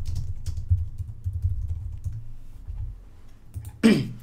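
Computer keyboard typing during an online card game, a short burst of soft, quick key clicks close by, followed by a brief throat-clearing noise at the end.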